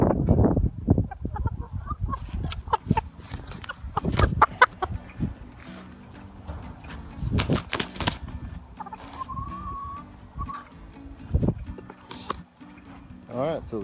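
Backyard chickens cluck and squawk in short, uneven bursts close by, with a longer drawn-out call near the end; one hen has been kept apart from the flock while she recovers.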